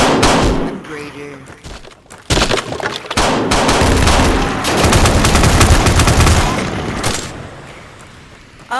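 Gunfire in a shooter video game: sharp, loud shots and rapid bursts mixed with booms and impacts, with people talking over the action.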